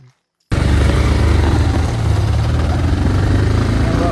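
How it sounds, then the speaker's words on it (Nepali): A motorcycle carrying two riders on a mountain road: a loud, steady engine drone and wind rumble starting abruptly after a short quiet moment and continuing unbroken. "हामी दुईजना बाइकमा जाँदैछौँ"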